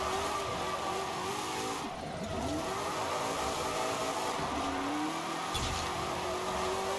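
A car engine drones steadily in a Forza racing game, its pitch rising and falling with gear changes and occasional tire scrub, heard up close and continuous with no voices.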